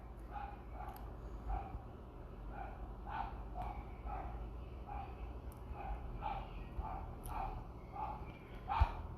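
A dog barks repeatedly at a mailman, sharp rhythmic woofs coming from a short distance indoors over a low constant hum, with a few louder yips near the end.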